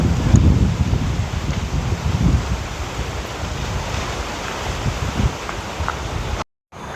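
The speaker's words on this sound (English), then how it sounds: "It's so windy, nice weather." Strong wind gusting outdoors at a nature park in Singapore, a steady loud roar with heavy low buffeting against the microphone, broken by a brief dropout near the end.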